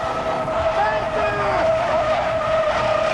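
Cars shoved along by February 1996 floodwater give off wavering, high-pitched squeals over a steady rushing background, with voices underneath.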